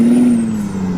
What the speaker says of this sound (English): you put the truck in, I think it's the first gear or reverse gear, and then you just rev it, and it cycles all the air through